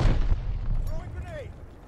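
A grenade explodes in Call of Duty: Vanguard multiplayer, a heavy low boom at the start that rumbles and decays beneath game callouts and a voice speaking.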